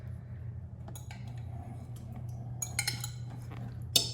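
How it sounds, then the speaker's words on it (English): A spoon scrapes and clinks against a pot and dish while an egg, onion and sausage mixture is spooned onto hash browns, with scattered close metallic taps over a low steady hum. "we're gonna put this mixture of the eggs and the onions and the sausage on top of"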